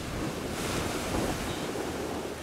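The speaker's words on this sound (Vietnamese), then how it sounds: "khi mà ra ngoài này thì mình thấy là sóng rất là lớn nha" Large sea waves churn and crash during a storm, a dense roaring surf mixed with gusting wind buffeting the microphone, continuous and loud with no voices.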